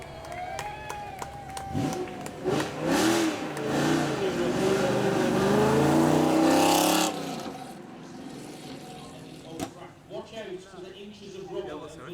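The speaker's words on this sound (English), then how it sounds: "the latest iteration of the Mustang 5 litre V8 up front, loud pedal in the middle, rear wheel drive" A Ford Mustang with a 5-litre V8 and rear-wheel drive revs and accelerates at a supercar weekend burnout event, a loud rising engine roar for several seconds that cuts off abruptly, with talk over it.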